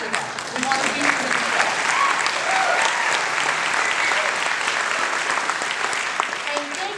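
Sustained applause from a large audience at a New Hampshire Democratic Party convention for a governor candidate, steady dense clapping with crowd voices and cheers running throughout.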